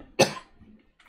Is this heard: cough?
yes